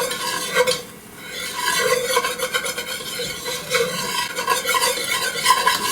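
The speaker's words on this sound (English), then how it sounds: "Just keep whisking and whisking." A whisk scrapes quickly and rhythmically around a pan of lightly golden roux for potato soup, with a soft sizzle under the repeated strokes, close and clear.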